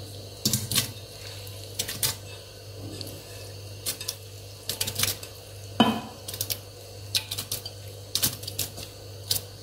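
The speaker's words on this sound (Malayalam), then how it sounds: "അതിലോട്ട് നമുക്ക് ഓറഞ്ച് ഇട്ട് കൊടുക്കാം." Orange pieces drop one after another into a clean, dry jar for homemade wine, a string of sharp, close knocks and clatters coming in uneven bursts over a low steady hum.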